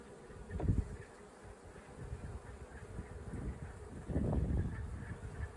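Low droning buzz of many honeybees near the hives, steady with two louder swells as insects pass close to the microphone, with some wind rumble.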